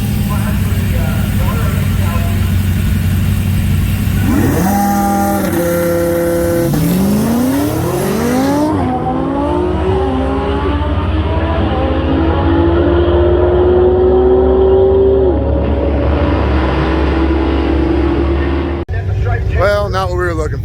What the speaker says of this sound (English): She's gonna launch at 200 RPM slower, and just hope that the track holds and that the car rips.